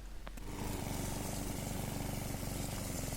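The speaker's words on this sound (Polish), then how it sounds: "Tak, to kosiarka spalinowa do cichych nie należy." A cheap MEEC TOOLS petrol lawn mower with a 2 kW OHV engine, 41 cm cut and metal deck starts up, then runs loud and steady with a rapid, even engine chatter.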